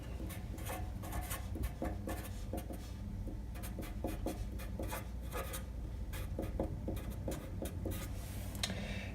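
Pen or marker writing out a logarithm equation by hand, a steady run of short scratchy strokes and taps on a writing surface, close and continuous for several seconds with no talking.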